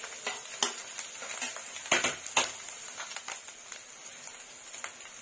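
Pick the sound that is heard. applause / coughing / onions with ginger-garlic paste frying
onions with ginger-garlic paste frying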